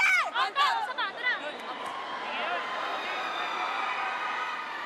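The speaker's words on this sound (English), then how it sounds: "Look at the crowd inside the Phil Oil Flying V Center." A large arena crowd of about 3,390 spectators at a women's professional volleyball match fills the space with a steady, loud roar of murmuring and cheering after a few shouted voices at the start.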